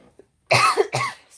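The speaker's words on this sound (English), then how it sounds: "Sorry, I didn't mean to cough in your ear." A single sharp cough close to the microphone, followed by a second rougher cough, with a brief quiet gap before them.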